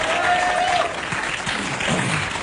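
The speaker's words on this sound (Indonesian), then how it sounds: "tepuk tangan sekali lagi buat tamu saya pada hari ini" Audience applause at a stand-up comedy show, a thick wash of clapping that fades somewhat toward the end, with faint voices underneath.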